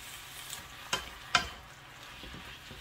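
Spinach stir-frying in a pan with oyster sauce, a soft low sizzle punctuated by two sharp utensil clinks against the pan.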